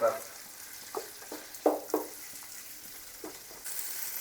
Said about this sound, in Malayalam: എൻ്റെ ചിക്കൻ ചില്ലിയിൽ ചിക്കൻ കരിയുന്നുണ്ട്